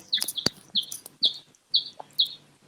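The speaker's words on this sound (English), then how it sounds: "I'm hearing a bird." A small bird gives a series of about five sharp, high chirps in a regular rhythm, fairly close and clear against a quiet room.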